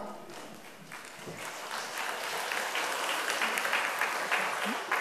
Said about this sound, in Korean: 박수를 치려면 확실하게 치셔야 됩니다